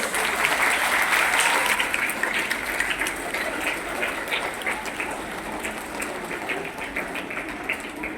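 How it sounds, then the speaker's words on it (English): A school audience at an inter-house orchestra competition claps in a long, dense round of applause, loud at first and then easing slightly while staying steady throughout. "Let us give a big round of applause for their hard work and sacrifices."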